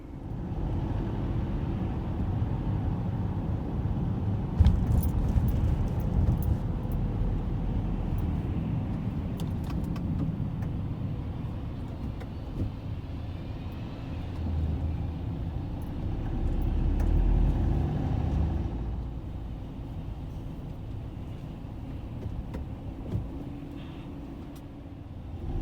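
A car drives along a UK road, giving a steady interior rumble of engine and tyre noise that swells and eases over time, with no voices.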